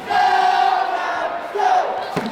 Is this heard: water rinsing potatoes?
no